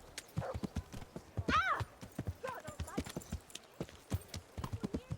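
Horse hooves clip-clop steadily at close range in the medieval game Kingdom Come: Deliverance, with a horse whinnying once and voices talking over the rhythmic steps.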